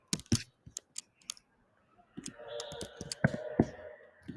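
Close, sharp computer clicks come in a scattered burst, pause, then resume over a faint tonal background hum, with irregular spacing between presses.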